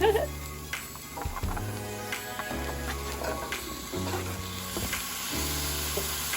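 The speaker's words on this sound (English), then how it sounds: "now add your potatoes. Let those fry down for a little bit." Potatoes fry in a pan for a vegan chayote curry, with a constant close sizzle and repeated stirring clatters. A voice talks quietly underneath.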